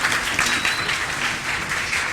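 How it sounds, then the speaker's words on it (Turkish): Audience applauding a middle school music choir at a school event, a steady wash of clapping that fills the short stretch, fairly loud and even throughout. "Şehit öğretmen Nuriye Ak Ortaokulu Müzik Korosu bir kez daha alkışlayalım."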